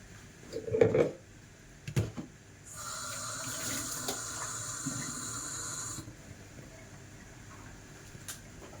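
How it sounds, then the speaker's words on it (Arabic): Water runs steadily from a kitchen tap for about three seconds, likely filling a glass, with a few soft clinks and handling knocks before it and quiet room noise after the flow stops. "ها هو الماء"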